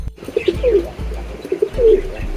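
Pigeons coo nearby in two rounded, throaty phrases, each rising and falling, with faint rustling and chirps in the background.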